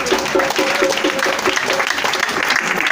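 Applause from a congregation at a Christmas Eve vigil service, steady clapping with a rhythmic pulse, with voices and singing mixed in throughout.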